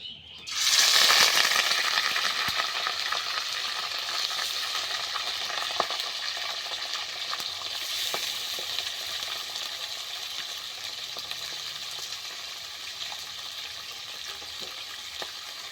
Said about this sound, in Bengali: এবার আমি মাংসটাকে তেলের মধ্যে ছেড়ে দিই।